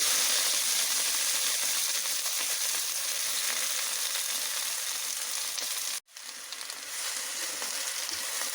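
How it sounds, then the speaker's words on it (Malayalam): Chopped elephant yam leaves hit hot coconut oil with popped mustard seeds and are stirred in a pan, giving a loud, dense, continuous sizzle close by that cuts out briefly before resuming slightly softer. "ചേനയില അരിഞ്ഞതങ്ങിടാം."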